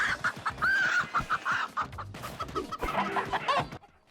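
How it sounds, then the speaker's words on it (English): A chicken in the video game Moving Out squawks and clucks loudly as it is picked up, with rapid frantic calls repeating over a few seconds amid game sound effects. "I'd lose my shit anytime I'd pick up a chicken and heard it scream"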